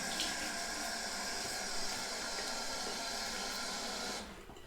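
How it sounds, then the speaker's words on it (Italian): Running water splashing steadily from a sink tap as a face is rinsed after a wet shave, a continuous broad hiss that cuts off near the end. "Mi sciacquo il viso."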